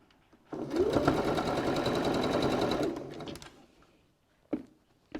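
A sewing machine stitches fabric around a cylindrical case, running steadily at a fast, even pace for a few seconds and then stopping, followed by a couple of soft handling knocks.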